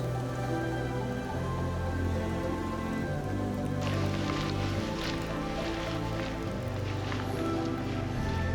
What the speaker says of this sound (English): The rain finally breaks,